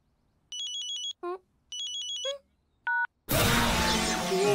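A phone at a dining table gives a close electronic ringtone of repeated bright beeping bursts and short trilling chirps, then a loud broadband crash of sound follows. No one speaks.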